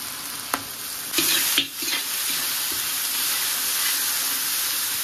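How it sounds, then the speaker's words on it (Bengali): Garlic and ginger paste frying and being stirred in hot oil for a Bengali mutton curry, a steady sizzle with a few sharp scraping knocks of a spoon near the start. "দেখো দিয়ে দিলাম রসুন বাটা, ভালো করে নেড়ে দিই।"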